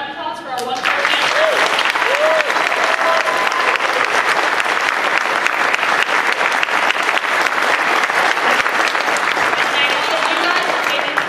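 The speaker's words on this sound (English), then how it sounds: "can we have a round of applause for our wonderful panel?" Audience applause fills the hall at the close of a San Diego Comic Con 2014 panel on SEGA versus Nintendo console wars: loud, steady clapping from a large crowd that swells in after a second and keeps going, with cheers mixed in.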